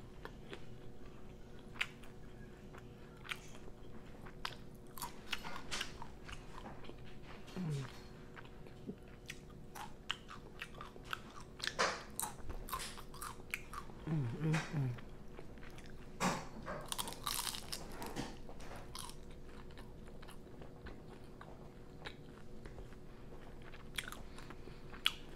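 Banana caramel spring rolls being bitten and chewed close to the microphone, crisp crunches and soft wet chewing in irregular bursts over a long quiet stretch.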